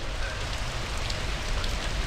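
Rain falling steadily at night outdoors, a dense continuous patter close to the microphone with no speech.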